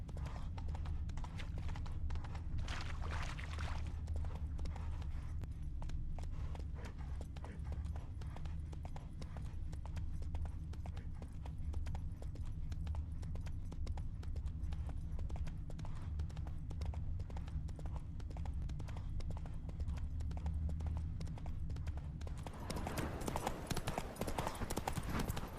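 Clip-clop of Geralt's horse Roach walking in The Witcher 3, steady rhythmic hoofbeats over a low droning background, with a brief whinny and a burst of louder noise near the end.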